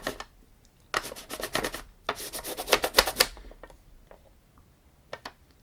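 Crayon rubbed quickly back and forth over a textured Tomy art set plate, two bursts of scratchy rasping strokes followed by a few lighter, scattered scrapes, close and alone.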